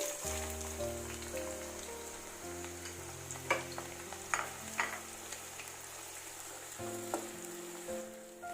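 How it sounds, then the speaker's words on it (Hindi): Onions fry in hot oil over a medium flame, making a quiet, steady crackling sizzle with a few brief louder pops, heard faintly beneath background music. "जब तक हमारी प्याज फ्राई हो रही है"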